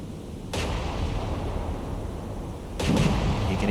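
Naval main battery guns fire in the War on the Sea video game, two heavy booming salvos about two seconds apart, each followed by a sustained low rumble.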